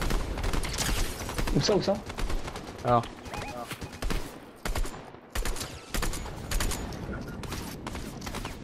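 Rapid gunfire in a Fortnite match, bursts of shots and clatter close up, mixed with players talking.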